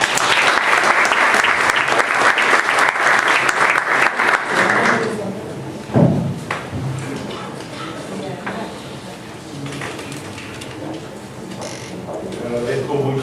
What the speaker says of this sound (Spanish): Con el fuerte aplauso de todos ustedes, recibamos a Adriano Miguel Tejada.